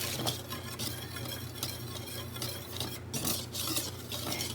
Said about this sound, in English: So, I'm going to whisk those together